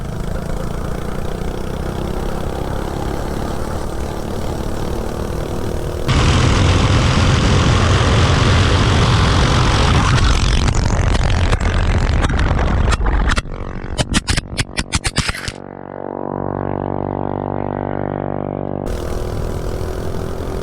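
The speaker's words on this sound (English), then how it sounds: "This thing's torquey too, for such a small engine." Small mini bike engine, fitted with a head gasket made of J-B Weld epoxy, runs loudly and close by. It drones steadily, surges heavier midway, breaks into choppy sputtering bursts, then sinks to a falling whine before the steady drone returns.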